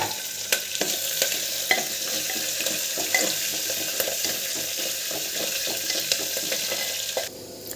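Curry leaves and green chillies hit hot tempering oil, giving a continuous, loud, crackling sizzle with scattered pops throughout. The noise cuts off abruptly near the end.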